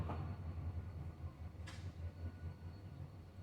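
A train rolls past outside with a steady low rumble and rattling wagons, fairly faint and continuous, with one brief higher screech partway through and no talking.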